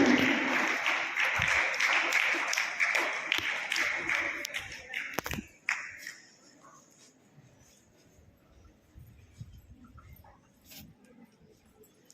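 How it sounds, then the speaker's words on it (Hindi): Loud applause at a school ceremony honouring a class 12 student and her parents, dense clapping for about five seconds that then quickly dies away to quiet room noise. "जोरदार तालियां योग्यता और उनके पेरेंट्स के लिए"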